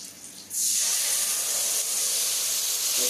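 Spice paste of garlic, turmeric, coriander and tomato hits hot oil with a sudden loud sizzle, then a steady close, bright frying hiss carries on without a break.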